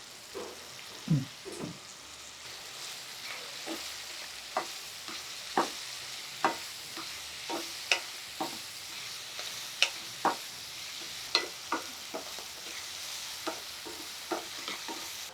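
Chopped spring onions frying in a pan for a prawn curry, a soft continuous sizzle broken by regular scraping knocks of a spatula stirring, close and without speech.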